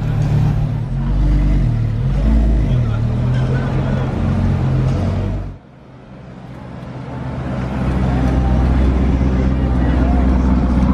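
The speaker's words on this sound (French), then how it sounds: "on va avoir le droit au start-up du V10" A V10 car engine starts up and runs as a loud, steady, close rumble; it drops off briefly midway, then the powerful idle resumes.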